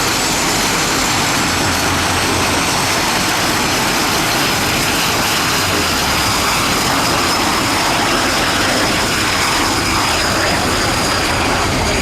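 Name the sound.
RAF Red Arrows jet aircraft flying at air show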